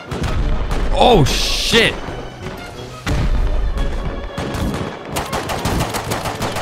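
Pistol shots ring out in the online game Rust in rapid, punchy bursts during a raid defence, loud and close, with a player briefly exclaiming over the gunfire.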